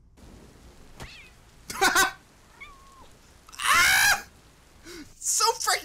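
A cartoon cat meows in short, bright bursts, a couple of clear cries spread across the clip, with a person's brief exclamation and other voices mixed in.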